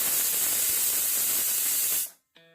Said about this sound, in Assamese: এতিয়া আমি 2টা হুইচেল অহালৈকে এৰি দিওঁ।